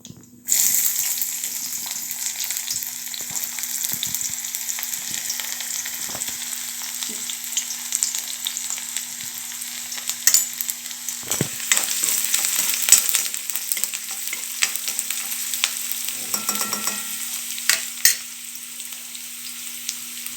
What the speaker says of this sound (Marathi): आता आपण कांदे घालू.